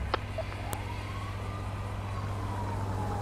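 A distant ambulance siren wails from the GTA V LSPDFR police game world, a single long rising-and-falling tone over a steady low engine hum, with a brief click near the start.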